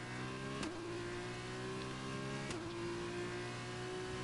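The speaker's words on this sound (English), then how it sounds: "The car sounds like a lawnmower." Race car engine in a racing video game on the Sochi Autodrome circuit, a thin, buzzy, lawnmower-like drone held at steady revs, with two sharp dips where the pitch briefly drops and recovers.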